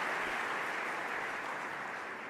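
Dense, steady audience applause fills the hall at the 20th annual IGF Awards, a continuous wash of clapping from a large crowd with no pauses.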